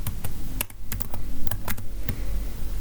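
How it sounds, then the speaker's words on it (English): Quick, uneven keystrokes on a computer keyboard as an Excel formula is entered, sharp clicks in a close, steady flurry with no talking. "I'm going to type in here equal sign and then tax"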